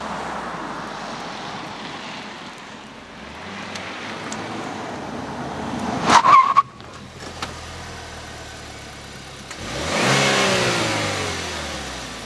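A 2014 Buick Verano Turbo's engine revs while driving, a steady mid-pitched drone that rises to a sharp peak, cuts off abruptly, then swells again in a loud acceleration near the end.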